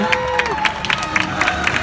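An audience at a Hollywood Studios movie-ride show claps and cheers steadily, with scattered hand claps and shouts in a dense crowd wash, while a voice carries over the top.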